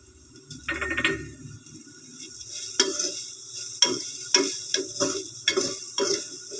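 Shredded cabbage is stirred into minced chicken in a pan on the stove, with a steady sizzle under a run of sharp, rhythmic spatula scrapes and knocks against the pan, close and fairly loud.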